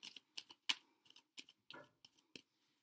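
Tarot cards shuffled by hand, about ten short crisp riffling bursts in an even rhythm, close and quiet, with no voices.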